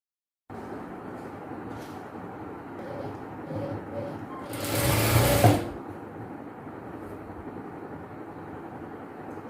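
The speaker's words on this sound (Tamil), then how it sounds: "இப்படி ஃபோல்ட் பண்ணிவிட்டு தையல் போட்டுக்கோங்க." Sewing machine stitching along folded chudidhar fabric in a tailoring class, a steady mechanical whir swelling into a louder close burst of about a second before easing back into room noise.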